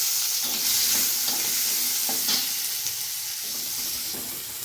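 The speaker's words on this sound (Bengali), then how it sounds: "দেখো এবার দিয়ে দেবো পেঁয়াজ কুচি।" Chopped onion fries in hot oil in a pan for a sour okra dish, making a loud continuous sizzle with soft stirring scrapes, close up and with no talking.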